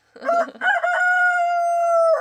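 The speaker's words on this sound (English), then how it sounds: "Mr. Rooster, you could be quiet now." A rooster crows once, close and loud, with a choppy opening rising into a long sustained clear note that cuts off sharply at the end.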